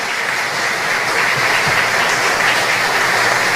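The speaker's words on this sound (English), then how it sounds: "Another round of applause for Lionel Chocolate Heredia." An audience at a tribute to Belizean patriots applauds an honoree, a steady, dense wash of clapping that carries on without a break.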